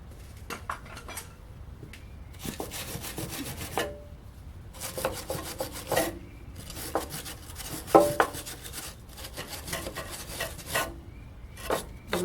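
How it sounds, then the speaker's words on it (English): A screwdriver chips and scrapes caked debris off bolt heads on a Snapper 48-inch commercial walk-behind mower, giving repeated short metallic scraping and clinking bursts in an irregular rhythm, close and fairly loud, with brief quiet gaps between. "take a screwdriver and I'm chipping that stuff away"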